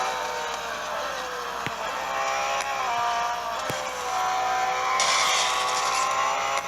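Race car driving fast, its engine whining through harmonic tones that rise and fall with gear changes, steady and close, with a few sharp knocks and a hissing burst near the end.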